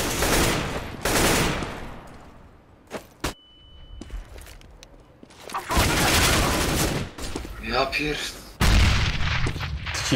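A grenade explosion in Counter-Strike: Global Offensive on Dust 2 in matchmaking, heard as a loud boom amid repeated gunfire bursts, with a player talking over the game noise.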